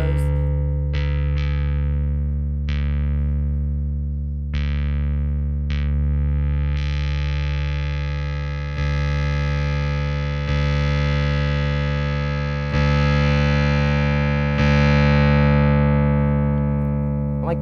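Synthesizer run through an unruly Afterneath reverb pedal, a sustained droning pad with repeated struck attacks that swell into a thick, distorted wash of texture, loud and continuous with no talking.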